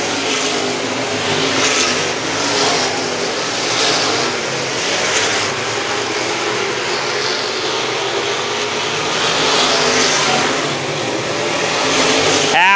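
350 super modified race cars roar around Star Speedway in a steady, loud wash of engine noise, several cars passing close with rising and fading surges throughout.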